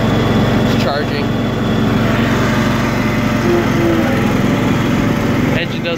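Cub Cadet 1320 hydrostatic riding lawn mower engine runs loud and close with a steady buzzing drone that swells slightly as it is revved, while someone talks over it.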